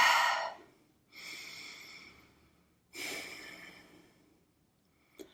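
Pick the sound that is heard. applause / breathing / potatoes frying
breathing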